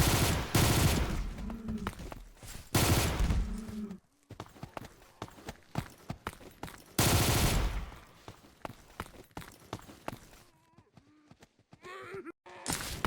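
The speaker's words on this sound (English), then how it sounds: "Let's clear out the remaining zombies, using the gun we built earlier." Gunfire in Garry's Mod while clearing zombies from a city with a home-built gun: loud bursts of rapid shots come in several bouts, separated by quieter stretches of scattered clicks and footsteps.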